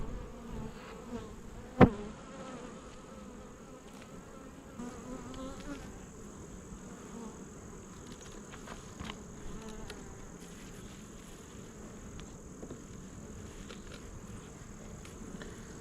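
Honey bees buzz steadily around an open hive, a soft continuous drone with individual bees passing close, plus a sharp knock early on.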